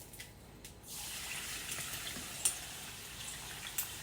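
Soda water pours into a pitcher with lime slices and ice, a soft continuous fizzing, splashing stream that starts after a moment and runs steadily, fairly quiet and close.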